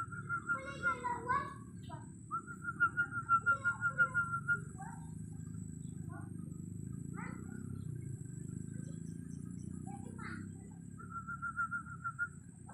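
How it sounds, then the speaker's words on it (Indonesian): A person whistles to call tilapia in a pond, sharp repeated whistle bursts with a rapid trill near the start and more later, over a constant low background hum. "Ini baru kita manggil ikan pakai siul ya kawan"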